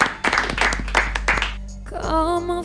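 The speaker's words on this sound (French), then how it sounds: "on pratique pour toi aussi l'applaudissement de confiance" Studio audience applause during a live radio music session, several rhythmic bursts of clapping close to the mic over a low hum, ending as a tone rises.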